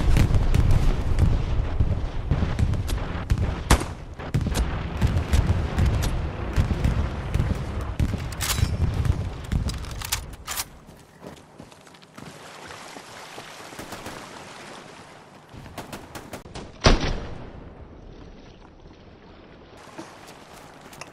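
Artillery shelling and gunfire in the Hell Let Loose video game: a loud, dense barrage of booms and shots in the first half, thinning to scattered distant blasts, with one sharp nearby impact toward the end.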